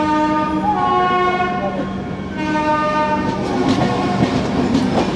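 A WDM 3A diesel locomotive, green livery, passes close by with a loud, sustained horn and steady engine drone, then a rising clatter of wheels over rail joints as the train rolls past.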